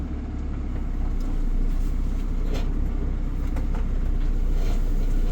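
A vehicle drives along with a loud, steady engine rumble and road noise from inside the cab, heard close and constant throughout.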